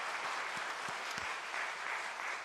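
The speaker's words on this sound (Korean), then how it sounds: "영광의 박수를 올리시도록" A large church congregation at a revival meeting claps steadily in sustained applause, a dense wash of hand claps that holds at an even level throughout.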